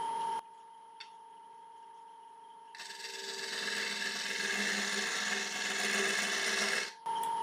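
Standard scraper taking light cuts along a rotten-log kitchen utensil holder spinning on a wood lathe, a steady raspy scraping that starts partway through over the lathe's motor hum and then stops abruptly near the end.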